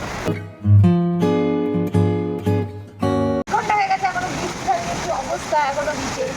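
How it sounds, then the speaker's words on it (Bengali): Heavy rain pours down outside a home in Bangladesh, a steady broadband downpour filling the second half after a stretch of voiced, tonal sound, with talk alongside. "বাইরে দেখতে পাচ্ছ কত জোরে বৃষ্টি হচ্ছে"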